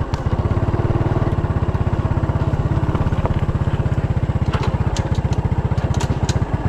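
A motorcycle engine idles close by with a fast, even low-pitched putter and mechanical clatter, holding steady throughout with a few faint clicks on top.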